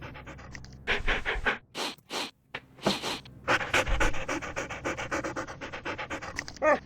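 Dogs pant loudly and steadily up close in the Ghost Dogs of Moon Lake video game, with bursts of scratching and rustling and a few sharp barks breaking through near the end; no one speaks.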